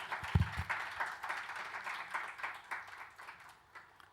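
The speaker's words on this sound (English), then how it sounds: "We can all clap together." Audience clapping at the close of a panel discussion on cybersecurity regulations and standards, a steady patter of many hands in a hall, moderately loud and fading slightly toward the end.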